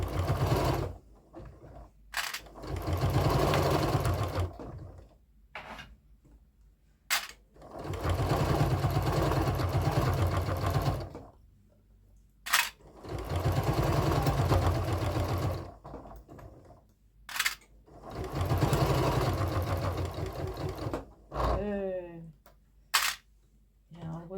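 Sewing machine stitching through quilt layers at an eighth- and quarter-inch seam, running in several long steady bursts of a few seconds each with short pauses between, loud and close, with brief clicks and a voice in the gaps.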